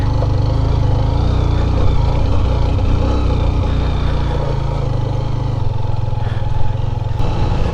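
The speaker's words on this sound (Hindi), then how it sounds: "ये नीचे पत्थर भी है ना, तो यहाँ पे बाइक्स थोड़ी स्किड भी कर रही है।" Motorbikes grind steadily uphill on a steep, stony mountain track on the old Silk Road toward Misgar Valley in Hunza, their engines droning loud and continuous with faint clatter from the loose rocks.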